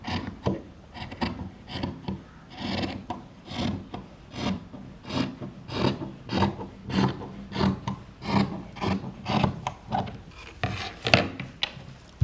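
Scissors cut through blouse fabric in a steady run of close, rhythmic rasping snips, one after another for several seconds.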